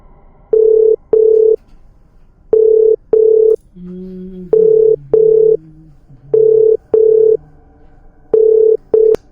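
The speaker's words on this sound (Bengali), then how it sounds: "পিউকে ফোন করি।" A telephone ringback tone sounds while phoning, loud paired beeps repeating at regular intervals, with a softer lower warbling tone between the second and third pairs.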